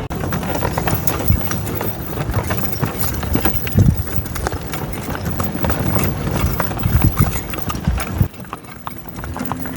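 Hooves of a mule-drawn cart clip-clop in a steady, continuous rhythm close by, with faint engine-like rumble underneath and no talk.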